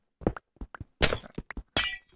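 Blocks are broken in a block-building video game as part of a railway bridge build, heard as a quick run of sharp cracking and glassy shattering hits, some single and some in short bursts, with silence between.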